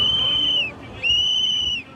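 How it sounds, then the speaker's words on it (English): Two long, shrill whistle blasts ring out back to back, each steady and piercing, over a low murmur of street noise as people warn of immigration agents on a Chicago street. "People blowing whistles when they see immigration agents"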